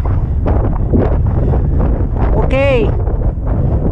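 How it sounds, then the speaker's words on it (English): Strong wind gusts across a Scottish mountain summit on Beinn Airigh Charr, roaring steadily and buffeting the microphone throughout, with a brief spoken word and a short tonal sound partway through. "It's getting really breezy up here."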